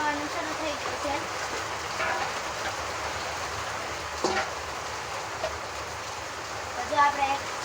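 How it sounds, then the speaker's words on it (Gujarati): Rain falls steadily outdoors during a home cooking session, a constant broadband hiss of drops with a few louder taps, while someone talks over it. "આમ અમે રાંધવાનું શરૂ કર્યું ને આમ વરસાદ આવવાનું શરૂ થઈ ગયું છે."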